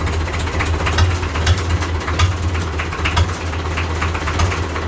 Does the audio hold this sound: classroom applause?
no